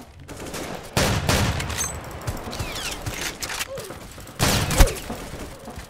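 Rapid gunfire bursts in the Roblox shooter Aimblox, two loud volleys with scattered single shots and mechanical clicks between them, close and sharp.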